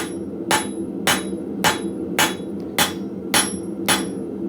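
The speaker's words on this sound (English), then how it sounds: "I'm going to start with right in the middle, and I'm going to slowly work out, and I'm going to flatten that bar down" A metal bar being hammered flat on an anvil gives eight sharp, ringing blows at a steady, even rhythm, close and loud over a low background hum.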